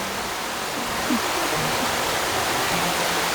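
Krathing waterfall in Khao Khitchakut National Park, a steady broadband rush of falling water that holds even and unbroken throughout, with no voices.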